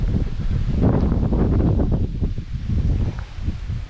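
Wind blows hard outdoors in the Elan Valley and buffets the microphone in a loud, low, rumbling roar with rising and falling gusts, and no voices.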